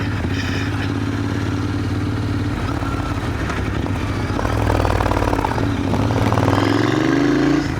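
A Royal Enfield Interceptor 650 motorcycle engine runs with a steady low throb and mechanical clatter, its note rising slightly toward the end, close and fairly loud with no talk.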